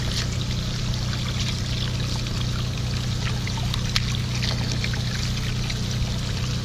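Running water pours steadily over a freshly cleaned, cooked male Dungeness crab as its gills and innards are rinsed out, a continuous close splashing trickle with no talk.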